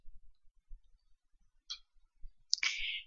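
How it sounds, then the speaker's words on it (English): Two crisp, close clicks of a computer mouse, a light tick followed a moment later by a sharper click, against quiet background shuffles. "I'm quite happy with that so I click on insert"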